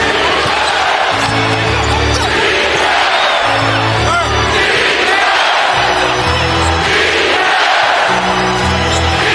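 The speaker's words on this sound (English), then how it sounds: "Boy, this crowd is electric." Packed basketball arena crowd during a Clippers vs Lakers game, a loud continuous roar of cheering and shouting with recurring swells, basketball bounces thudding beneath the noise and voices mixed in throughout.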